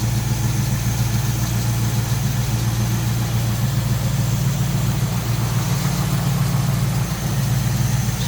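A 1938 Ford Deluxe convertible street rod idles smoothly and steadily with a low, even rumble, running alone at close range the whole time.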